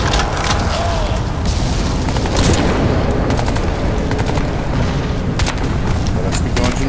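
Gunfire and explosions in Crysis 2 combat, heard as dense repeated bursts of shots and booms, loud and continuous across the whole stretch with no clear pauses.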